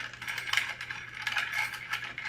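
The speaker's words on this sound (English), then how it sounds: "and you screw it on, and it's still loose." Metal stud and screw on a 1981 Corvette factory horn bracket being turned by hand, a steady run of small close ratcheting, clicking mechanical sounds with no talk.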